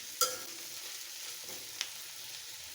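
Malabar spinach fruit frying in a pan: a steady close sizzle with a couple of stirring clinks and scrapes, no voices.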